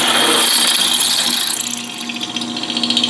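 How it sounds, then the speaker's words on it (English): A power drill whines loudly as it bores into hard material, the pitch shifting and grinding as it works through. "here I go, trying to drill through this"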